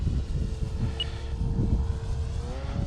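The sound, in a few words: RC trainer airplane engine at half throttle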